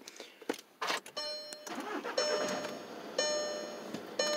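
A 2015 Volkswagen Jetta TDI diesel with push-button start cranks and catches on a cold start, settling into a steady idle with a faint ticking, while people talk briefly nearby.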